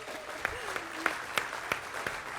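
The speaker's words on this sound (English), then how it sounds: "Just a round of applause to the team." A small crowd at a tech conference session claps for the product team, a sparse run of a few distinct claps spaced out evenly, fairly quiet and close.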